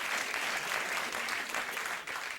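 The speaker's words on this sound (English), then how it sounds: "Truly a crowd that will applaud anything." Steady applause from a television studio audience on a late-night talk show, a dense continuous patter of clapping hands that holds at an even level for a couple of seconds, with faint voices mixed in.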